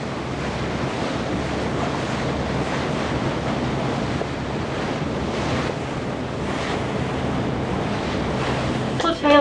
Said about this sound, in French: Mais ouais, là il y a beaucoup de vent.